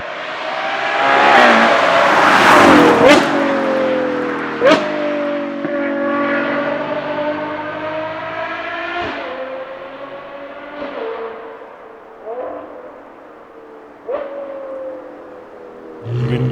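A Novitec-tuned Ferrari Purosangue V12 revs repeatedly, loud sharp throttle blips rising and falling close by, with crackles between revs and a long sustained high-pitched wail.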